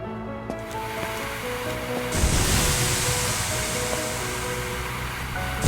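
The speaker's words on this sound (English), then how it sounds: "grab a hose and try to put out both grease fires" In the video game Firefighting Simulator: The Squad, a fire hose blasts a steady, loud rush of water onto two grease fires, the hiss swelling abruptly into a broad roaring spray that continues without pause.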